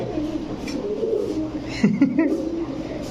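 Ringed pigeons at a fancy-pigeon farm, Rampuri, Teddy and Saharanpuri breeds among them, give a few short low coos in a cluster near the end, over steady background noise with faint voices.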